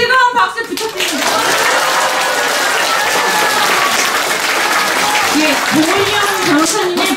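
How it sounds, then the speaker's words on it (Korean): An audience at a lawyers' public event breaks into loud, sustained applause that fills the room after a short spoken request at the start, with the clapping continuing dense and even for several seconds. "여러분 다시 한번 뜨거운 박수 부탁드립니다."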